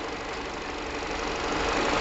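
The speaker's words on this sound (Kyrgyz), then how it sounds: "моторный отсек аябай тынч иштейт экен, кыймылдаткыч." A steady, even engine hum drones close by, a smooth continuous idle with no voices and a slight rise in loudness toward the end.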